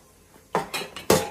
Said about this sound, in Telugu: చిన్నపాటి పెనం పెట్టుకున్నాను.